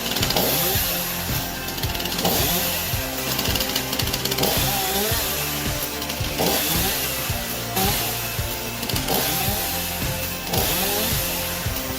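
A standard chainsaw mounted on a sturdy metal frame with a stabilizing system and automatic throttle drones loudly and steadily while cutting through a wood log, its engine pulsing in a repeating rhythm throughout.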